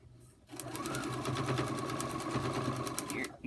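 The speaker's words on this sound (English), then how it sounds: "So I'm going to sew that line to before and off the board" A sewing machine stitches a foundation paper pieced quilt block for a hummingbird pattern, starting after a short quiet moment and then running steadily and close for about three seconds with no talking.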